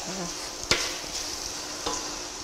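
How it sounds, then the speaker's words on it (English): Chicken fillets and bacon bits fry with pepper in a pan, giving a soft, steady sizzle with two sharp utensil clicks near the start and the end. "it is going to fry with your fillets and your bacon bits"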